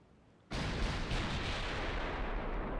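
Naval guns firing high-explosive shells in Ultimate Admiral Dreadnoughts, a German 1930 campaign battle: a sudden loud boom starts a dense, sustained roar of overlapping gunfire that stays heavy to the end, with no talking.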